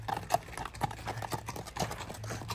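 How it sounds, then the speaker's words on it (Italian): Horse hooves clip-clop at a farm where visitors feed the animals, a steady run of close, crisp strikes with no talk over them. "No, un cavallo."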